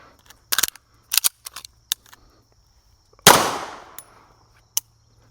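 A pistol is handled and dry-fired on a shooting range, giving a series of crisp, isolated mechanical clicks with quiet gaps between them, interrupted once by a much louder, decaying crack.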